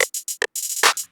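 Crisp programmed hi-hats tick in a short triplet run, bright and close, with a few quick even hits and nothing else playing.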